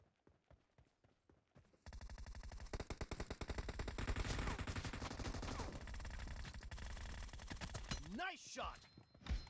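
Gunfire in PUBG Mobile team deathmatch from a Groza rifle: a few spaced single shots, then a loud, dense sustained automatic burst lasting several seconds before tapering off.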